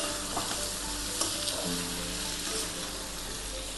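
Chicken kosha sizzling and frying in a pan as it is stirred after salt and sugar are added, a close, continuous hiss and crackle with occasional scraping from the spoon.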